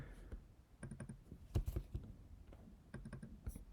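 Typing a name into an online scholarship application form on a computer keyboard: short bursts of quiet close key clicks with brief pauses, and no voices.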